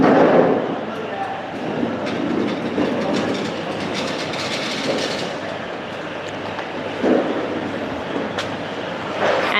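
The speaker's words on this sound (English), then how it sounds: "This is the machine to fill the liquid." An automatic liquid-filling doypack packing machine runs with a continuous dense mechanical rumble and rattling, with periodic clacks and hisses, loud and close, while people talk over it.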